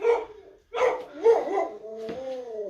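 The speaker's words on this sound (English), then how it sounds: "For anybody can hear that, that's the dog outside." A dog barks outside during a home workout session, a few close, loud barks in quick succession followed by a longer whining, yelping call, with no talk over it.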